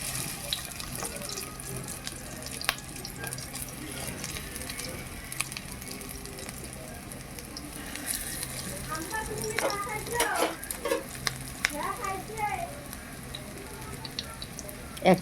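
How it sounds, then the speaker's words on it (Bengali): Bread chops slid one by one into shallow hot oil on a tawa, sizzling steadily with soft crackles and spatters close by, a few louder pops near the end. "এখন আমি একটি একটি করে ছেড়ে দিচ্ছি তেলের মধ্যে"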